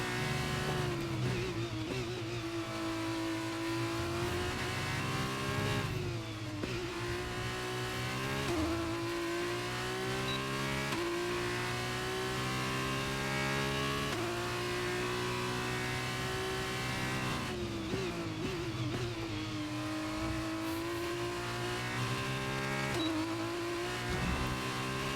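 An F2 race car laps the Red Bull Ring in the video game F1 23, its engine droning loud and continuous as the pitch climbs through the gears, drops on braking for corners and rises again.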